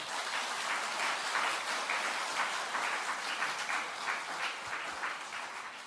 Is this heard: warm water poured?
no